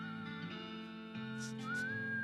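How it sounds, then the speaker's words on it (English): A woman whistles a steady, sliding melody in the West of Loathing video game, playing continuously over a low drone of background game music with no talking. "This lady is still whistling to beat the band."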